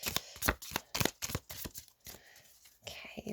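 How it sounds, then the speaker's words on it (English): A large 200-card tarot deck is shuffled close to the microphone, a rapid run of crisp riffling flutters and soft slaps, then a pause and a short final shuffle. "It's 200 cards, so I do have to sort of shuffle it in two separate parts."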